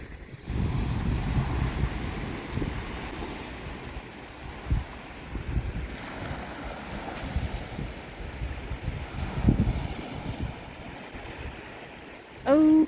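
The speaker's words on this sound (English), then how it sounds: "Can you hear the little waves?" Small waves lap at a beach shoreline, soft surges of surf with heavy wind buffeting the microphone, rising and falling at close range, with a brief burst of noise at the very end.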